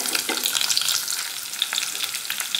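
Onion and green chilli pieces fry in a pan with dried red chilli, curry leaves and cashews, a close, steady sizzle broken by repeated stirring scrapes and little crackles throughout.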